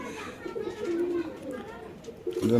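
A Spanish breed female pigeon coos softly at a pigeon farm, a few low rolling calls close by, with a louder burst near the end.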